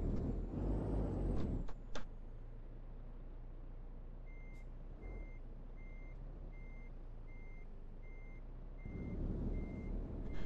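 A supersized Kenworth truck hauling a 75-ton load reverses in Euro Truck Simulator 2, its evenly spaced reversing beeps repeating steadily over a low idling engine rumble, with louder engine surges at the start and end.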